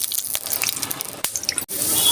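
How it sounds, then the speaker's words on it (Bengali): Mustard oil poured into a hot wok on a wood or clay stove, giving a close, wet, splashing hiss with brief drips, a short break, then a steady sizzle that swells toward the end. "কড়াটা গরম হোক, গরম হয়ে গেছে, আমি সর্ষের তেল দিয়ে দেবো।"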